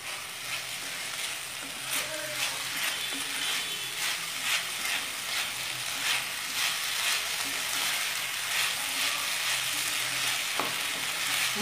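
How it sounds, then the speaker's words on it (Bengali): Water spinach and brown chickpeas fry steadily over raised flame in a pan, giving a continuous close sizzle with faint clinks of stirring throughout, no talking. "ভাজা ভাজা করব।"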